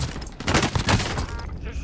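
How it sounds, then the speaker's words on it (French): Gunfire in the battle royale shooter Warzone, a rapid cluster of loud overlapping shots and bursts, close and dense, with a voice faintly present underneath. "Je subis des tirs."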